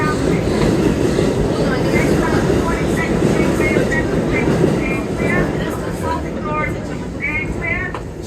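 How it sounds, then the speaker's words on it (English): Inside a 1980s New York City subway car, a loud continuous rumble and roar of the moving train fills the space, with rhythmic wheel clatter and squeals over the rails and faint voices beneath. "These subway cars we're on are from the 1980s"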